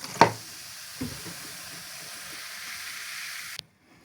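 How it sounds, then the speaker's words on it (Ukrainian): Baking soda quenched with vinegar for apple pancake batter, giving a steady soft fizzing hiss for a few seconds after a brief clink, close and moderately loud, then stopping abruptly. "Соду обов'язково потрібно погасити оцтом"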